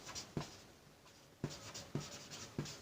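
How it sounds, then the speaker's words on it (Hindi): Writing on a surface during a maths lesson on unit vectors, with a few faint sharp taps and short strokes spaced through a quiet room. "तो आइए लिखते हैं, यहां पे लिखेंगे"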